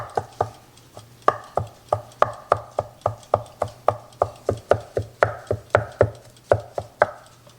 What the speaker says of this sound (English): we are chopping up the chicken, chopping it up pretty fine.